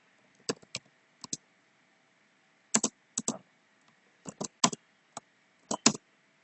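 Bursts of computer keyboard typing while code is entered, with short clusters of quick clicky keystrokes separated by pauses, close and fairly quiet with no voices.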